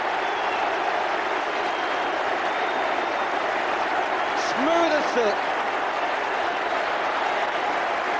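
A football crowd gives a standing ovation to a scorer, a broad, steady wash of applause and cheering in a stadium, while a commentator speaks briefly over it.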